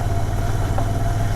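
A Royal Enfield Continental GT650 motorcycle engine idles close by with a steady, loud, low rumble that holds even throughout, with no one talking.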